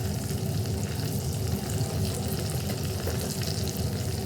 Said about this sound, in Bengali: আমি বাটার সাথে সয়াবিন তেল দিয়ে দিব, কম পরিমাণে সয়াবিন তেল।